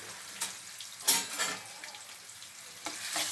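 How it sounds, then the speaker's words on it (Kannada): Ginger garlic paste sautés in a pan, a steady sizzle punctuated by several sharp scraping stirs of a spoon against the metal, close and moderately loud. "ಇದಿಷ್ಟನ್ನು ಇವಾಗ ನಾವು ಚೆನ್ನಾಗಿ ಸಾಟೆ ಮಾಡ್ಕೋಬೇಕು."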